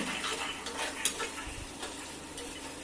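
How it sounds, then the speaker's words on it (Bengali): A spoon stirs spice masala cooking down with added water in a pan for rajma curry, quiet scraping and faint simmering with a sharp clink near the middle. "আরও কিছুটা জল দিয়ে মশলাটাকে কষিয়ে নেব"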